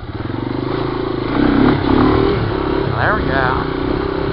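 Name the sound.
Yamaha 200E motorcycle engine doing a wheelie in snow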